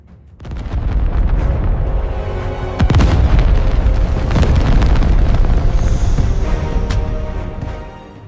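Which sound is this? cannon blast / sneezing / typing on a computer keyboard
cannon blast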